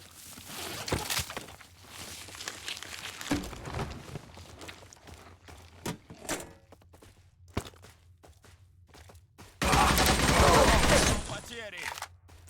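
Rifle fire in the game Covenant comes as scattered sharp cracks between footsteps and scuffling, then a loud sustained burst of shots and clatter before things quieten again.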